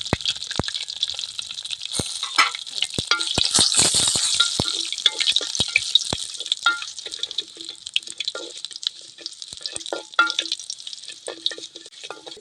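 Curry leaves and chillies tempering in hot oil for horse gram rasam, a bright crackling sizzle peppered with sharp pops and spits that gradually settles into a steadier fizz.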